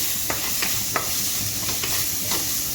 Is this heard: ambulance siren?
no